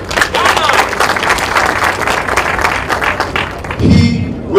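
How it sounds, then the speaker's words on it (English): A crowd at a political gathering applauds Bobi Wine in a loud, sustained wash of clapping with voices mixed in. A brief deeper burst of sound near the end rises over the clapping. "Let's give him a round of applause."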